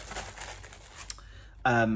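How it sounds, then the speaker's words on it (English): Plastic packaging on a crochet kit crinkles and rustles close by as it is unwrapped, with a couple of sharp crackles. A person's voice cuts in loudly near the end. "As you can tell, excuse the rustling."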